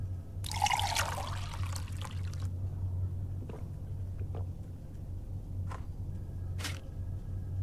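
In the video game Fahrenheit Indigo Prophecy Remastered, a character drinks water: a short burst of pouring, trickling liquid is followed by a quiet low hum and a few faint clicks.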